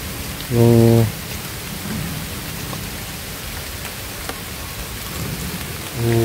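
Heavy rain pours steadily as a continuous wash of noise. Two short, loud tonal bursts stand out over it, one near the start and one at the very end.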